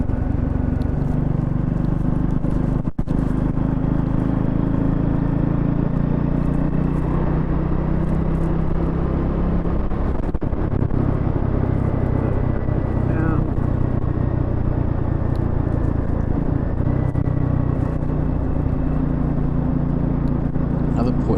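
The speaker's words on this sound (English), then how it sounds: "engine braking was really good, really smooth" A Triumph 400X Scrambler motorcycle engine drones steadily under constant wind buffeting while riding and engine braking, its low rumble holding even with no sharp changes.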